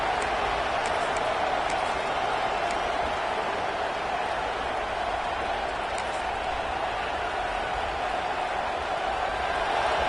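Stadium crowd at a football game fills the air with a dense, constant roar of many voices, steady and distant with no single sound standing out.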